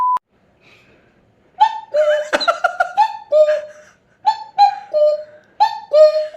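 A person imitating a cuckoo's two-note call with the voice, repeating the pitched hoots in several short bursts, mixed with laughter and chatter nearby.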